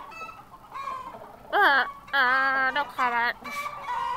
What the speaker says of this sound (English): The chickens don't give interviews.